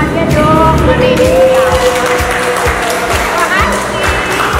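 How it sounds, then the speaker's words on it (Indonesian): Applause from a studio audience greeting the cast of the film EL at a talk show held at SKV Jalan Sunda: steady, dense clapping throughout, mixed with voices and tonal background sound. "Yeay, tepuk tangannya dong."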